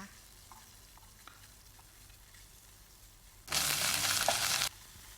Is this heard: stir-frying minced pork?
yes